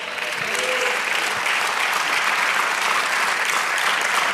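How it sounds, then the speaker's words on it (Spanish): A church congregation claps for the Lord during a sermon, a broad sustained wash of many hands at an even, fairly loud level throughout. "Denle aplauso al Señor"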